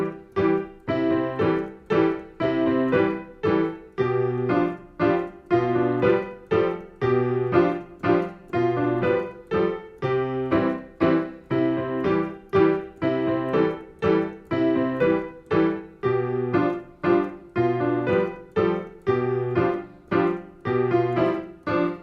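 A beginner's second piano song played straight through from start to finish: a steady, even run of close, moderately loud notes and chords for about twenty seconds, with no talking.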